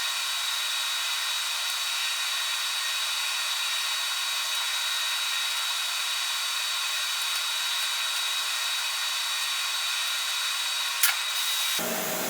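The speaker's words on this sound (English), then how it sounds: "What you're hearing is our ultrasonic cleaner in the background." A Lyman Power Pro ultrasonic cleaner running with gun parts gives off a steady, loud high-pitched hiss and whine that continues unchanged throughout, ending with a brief click.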